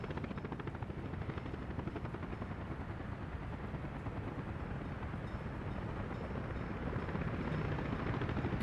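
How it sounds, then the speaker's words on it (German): Steady, loud rotor thrum of helicopters in the city-building game Workers & Resources, a continuous dense chopping drone holding for several seconds with no talk over it. "Okay, es sind die Hubschrauber."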